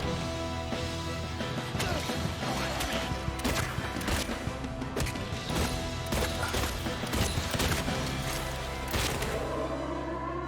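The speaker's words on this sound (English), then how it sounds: "Right off the bat, the gunshots sound terrible." Gunfire and impact sounds from the Silent Hill 2 combat trailer, a horror video game, heard as dense repeated sharp bangs and crashes over a steady music or ambience bed throughout.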